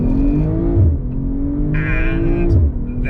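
A BMW M340 launches hard from a standstill, its engine roaring loud and close as it revs and pulls through the gears, with a brief dip and surge at each gearchange.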